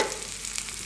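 Mustard seeds tempering in hot oil for a cowpea bean curry, a short steady crackling sizzle heard up close with no talk.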